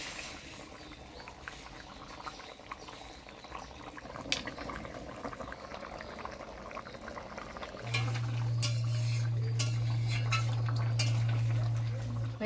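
Fish curry of foli fish with taro simmers in a pot, a steady bubbling boil with a few light utensil clinks and a low hum joining in toward the end.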